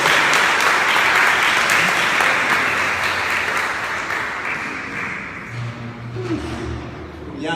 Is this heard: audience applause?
yes